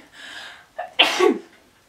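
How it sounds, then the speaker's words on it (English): A single sneeze: a short sharp inhale, then an explosive burst that trails off into a breathy tail. "Definitely gonna sneeze."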